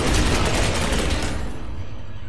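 Dense, rapid gunfire from the Space Hulk Ascension video game, Space Wolves campaign: a loud, continuous barrage of overlapping shots that holds steady for about two seconds and then tails off slightly at the end.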